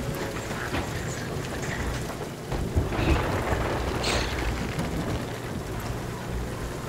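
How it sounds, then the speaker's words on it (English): Rain pours steadily in a Sea of Thieves thunderstorm, with rolling thunder swelling in the middle and a second loud rumble near the end, continuous and fairly close without any talk. "There's a storm coming."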